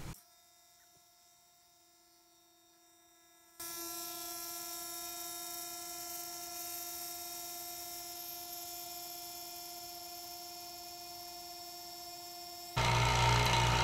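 A vacuum pump pulls a vacuum on Cactus Juice stabilizing resin for a woodturning lamp base. A steady electric hum turns into a loud continuous droning motor run with a quieter tone before it, and the sound jumps louder near the end.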